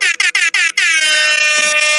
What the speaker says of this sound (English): I don't think we did an air horn yet